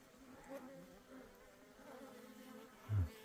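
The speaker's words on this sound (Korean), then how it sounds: "여기도 벌이 들었네요." Native Korean honeybees at a wild hive in the mountains hum in a faint, steady buzz, with a brief louder low drone near the end as one flies close.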